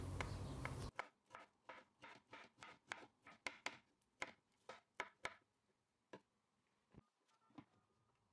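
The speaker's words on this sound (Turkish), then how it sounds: "60 gram bitter çikolatamı da şöyle irili ufaklı doğradım." Sixty grams of bitter dark chocolate chopped into rough pieces with a knife: a short burst of noise, then about fifteen crisp, close taps in a loose, steady rhythm that thin out and grow fainter toward the end.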